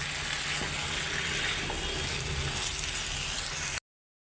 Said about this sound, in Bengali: আলু আর মাংসটা একসাথেই ভাইজা নিব